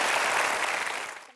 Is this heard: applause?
yes